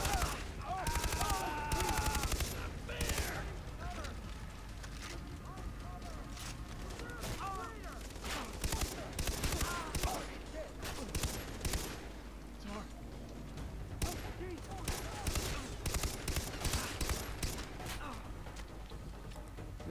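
Enemy gunfire in the video game Far Cry 3: dense bursts of rifle and machine-gun shots crack steadily throughout, loud and continuous, with a player's voice talking over the shooting.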